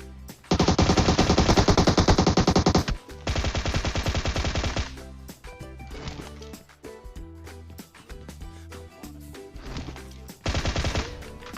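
Automatic gunfire in the PUBG Mobile video game, loud rapid bursts lasting a second or two each, separated by short gaps and scattered single shots.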